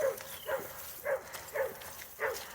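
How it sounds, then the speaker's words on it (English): A Doberman Pinscher barks in four separate sharp, moderately distant bursts at a steady rhythm, set against low background noise with no talk. "the Doberman is just barking incessantly at him"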